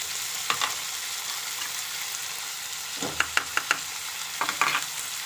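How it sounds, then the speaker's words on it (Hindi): Washed green peas and spices frying in a pan for matar chaat, a steady moderate sizzle with clusters of clinking, scraping spoon stirs against the pan. "और सभी मसाले डाल करके मिला लेते हैं।"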